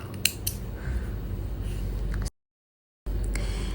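Scissors snip through crochet yarn a few times early on, quick close clicks over a steady low background hum, followed by a brief silent gap.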